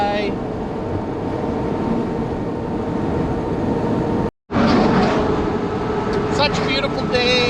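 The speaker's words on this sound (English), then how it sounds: "Such a beautiful day to go for a drive." A 1964 Corvette driving, its engine and road noise a loud continuous droning rumble from inside the car, broken by one brief dropout, with someone talking over it.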